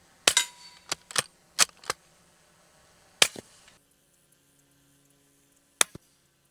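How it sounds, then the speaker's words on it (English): Suppressed rifle shots firing Fiocchi 220 grain subsonic rounds through a new Lonestar suppressor, each a sharp, close crack with a metallic click of the firing pin on the casing: seven irregularly spaced shots, some in quick pairs, with quiet gaps between. "You can hear the firing pin hit the casing."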